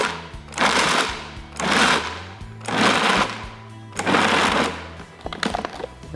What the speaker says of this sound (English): So all I'm going to do here is just pulse this a few times to get that mixed.